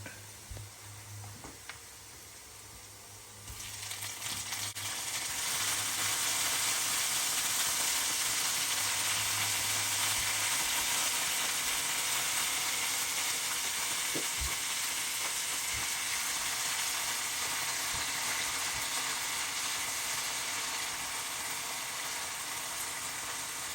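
A pan of Filipino-style spaghetti gamberoni sauce sautés with browning ingredients, giving a steady, loud sizzle that swells after a few seconds and holds as a dense frying hiss with faint stirring clicks.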